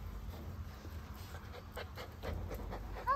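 Small energetic puppies pant quickly and softly close by, a rhythmic breathy huffing over a low background hum.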